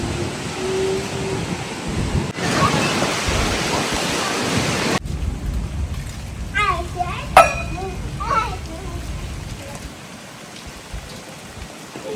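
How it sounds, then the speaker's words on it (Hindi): Steady heavy rain with large drops pours down on a Punjab village with a loud broadband hiss that shifts texture partway through; faint voices and scattered bird-like calls surface briefly above it. "माशाल्लाह अभी मोटी मोटी बारिश आ रही है जी।"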